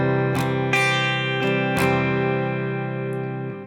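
Electric guitar strums the chord rhythm of a song, with sharp downstrokes near 0.4, 0.7, 1.4 and 1.8 seconds over sustained, ringing chords, played alone and fairly loud.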